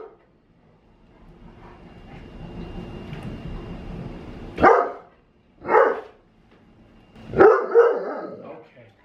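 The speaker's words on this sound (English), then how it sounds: "He's like the cutest puppy in the entire world playing with his toys." A puppy barks three times in loud, close yelps spaced a second or two apart, after a stretch of soft rumbling background noise.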